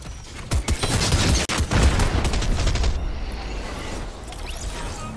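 Gunfire in the Fortnite video game, a dense fusillade of rapid shots and impacts for about three seconds, then fading into quieter rumble and scattered noise.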